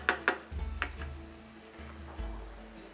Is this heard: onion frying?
yes